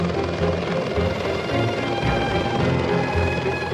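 A Soviet Mi-1 helicopter flies with a steady, loud, continuous rotor and engine drone that holds even throughout, with no talk.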